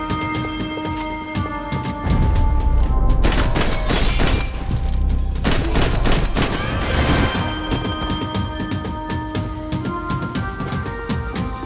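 Gunfire in Max Payne 3 rises into loud, dense bursts of shots with crashing impacts and breaking debris, layered over an ongoing musical score with no voices.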